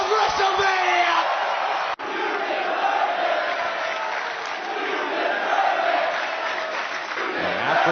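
Capacity wrestling arena crowd at a live Monday night TV event roaring and chanting in a sustained, dense wall of cheering and yells, with a brief dropout near two seconds before the noise resumes at full strength.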